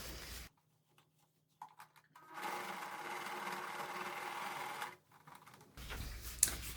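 A domestic sewing machine stitching a finishing seam on a men's toiletry bag runs in a steady, close mechanical whir for a few seconds, with short clicks before and after and quiet gaps.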